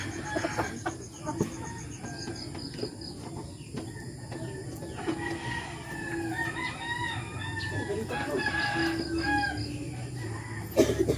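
A rooster crows amid a busy farmyard of clucking chickens and other birds, with steady background noise throughout.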